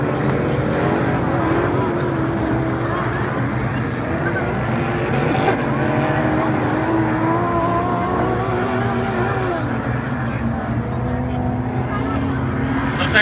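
Off-road race vehicles at an Ultra4 National Championship run a dusty downhill section, with a steady roar of engines and rising, falling revs throughout. A voice is partly audible under the engines.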